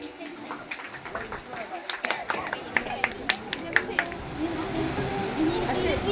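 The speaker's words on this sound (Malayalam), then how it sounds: "എല്ലാവരും കയ്യടി ചെയ്യുന്നു." Scattered clapping from a first holy communion audience, sharp irregular claps building over several seconds amid murmuring voices and a speaker, moderately quiet and indoors.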